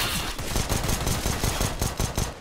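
Rapid automatic gunfire from Counter-Strike: Global Offensive, a dense rattling string of shots running steadily through the whole moment at close range, with no voices over it.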